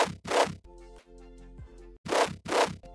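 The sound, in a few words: Serum FM growl synth with modulated high notch filter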